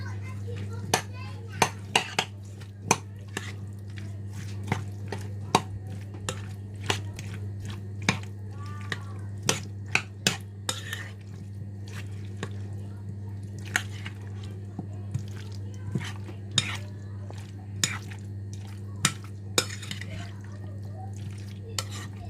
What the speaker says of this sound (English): Now I'm going to mix this up.